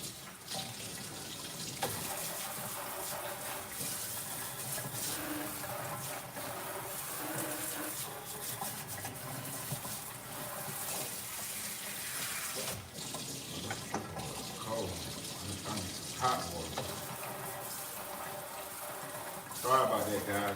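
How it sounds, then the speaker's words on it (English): A kitchen tap runs steadily into a sink during cleaning, with splashing and clatter underneath, while someone talks over it throughout. "make sure my sink clean right quick."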